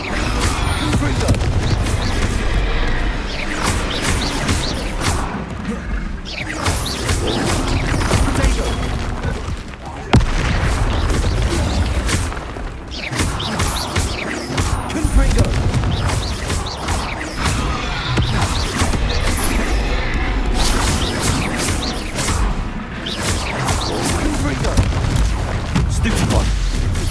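Confringo spell blasts and explosions in the Hogwarts Legacy video game on PC: loud, dense booms and blasts follow one another almost without pause, with voices shouting among them.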